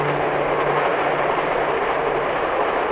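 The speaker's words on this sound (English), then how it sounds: "the train goes through the mountain itself, through a tunnel" Passenger train running through mountain country, a loud, continuous rushing rumble with steady broadband noise and no distinct clicks.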